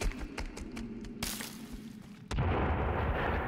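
A game grenade in Sons Of The Forest goes off with a sudden loud boom that gives way to a sustained rumbling roar, after a stretch of quieter ticking and thuds.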